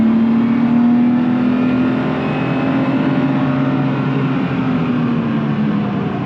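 A race car accelerates on the Nogaro circuit with a loud, close engine drone whose pitch holds steady and then dips slightly, continuous for the whole stretch with no talk.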